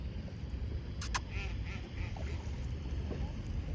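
A duck quacks a few times near a person outdoors, its short calls faint against steady background noise and wind.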